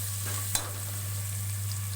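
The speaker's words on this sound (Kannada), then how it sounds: "ಎಣ್ಣೆಯಲ್ಲಿ ಚೆನ್ನಾಗಿ ಬೇಯಿಸ್ಕೊತಾ ಇದ್ದೀನಿ" Food sizzles in hot oil with a constant crackling hiss, punctuated by one quick clink of a utensil against the pan.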